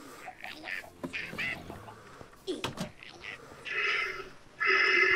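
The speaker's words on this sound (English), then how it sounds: "There are a lot of chickens around here." Minecraft chickens cluck in the game, a series of short, close clucks that grow louder and denser toward the end.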